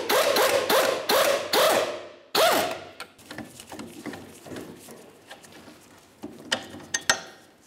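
A ratchet working the 22 mm rear strut mounting bolt on a 2009-2010 Pontiac Vibe, with a run of loud rapid clicking bursts at first, then quieter intermittent ratcheting and a few sharp metallic knocks, close up.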